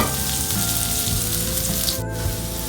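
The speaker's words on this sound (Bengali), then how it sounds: "এখন রসুন আর পেঁয়াজ একসাথে ভাজি করবো।" Garlic and onion fry in a pan with a steady, close sizzle and crackle that runs unbroken through the whole short stretch, shifting briefly midway, with no voices over it.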